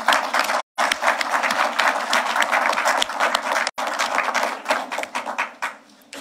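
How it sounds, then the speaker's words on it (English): Crowd applause at a fire and rescue services passing-out parade in Bermuda, loud close clapping from many hands, briefly cut out twice, then thinning to scattered claps before stopping. "Can you all give yourselves a round of applause?"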